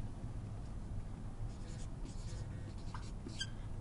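Pen or marker writing a volume measurement, short scratchy strokes starting partway through and spaced irregularly, close but soft over a steady low room hum, with no speech.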